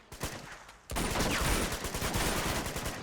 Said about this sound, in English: I have to shoot another padlock.